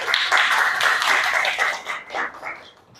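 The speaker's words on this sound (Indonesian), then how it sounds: "beri tepuk tangan untuk kelompok yang di depan ini" A classroom of students applauds a group that has just presented at the front: a brief burst of dense, steady clapping that starts loud and tapers off within a few seconds.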